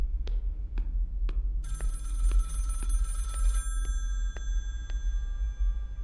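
Telephone ringing in the video game Project Looking Glass: a faint electronic ring tone for a couple of seconds amid a low ambient drone and regular soft metallic pings, with no talk.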